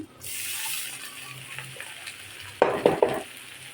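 Chopped onion fries with nigella seeds in a pot for a fish roe and potato dish, giving a steady close sizzle, with a few sharp utensil scrapes and stirring clatters near the end.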